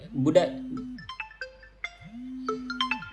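A phone ringtone sounds twice, each ring a sustained electronic tone about a second long with melodic chimes above it, set against a quiet room while a person speaks briefly between the rings.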